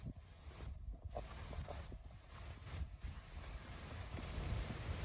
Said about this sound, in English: See, we have ocean out there.